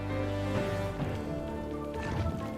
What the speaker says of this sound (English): reasonably difficult when it's raining